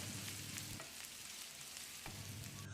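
Steady sizzling and crackling of spices and Kashmiri chili powder frying in a pan, with a few soft scraping stirs, fairly quiet and with no talking.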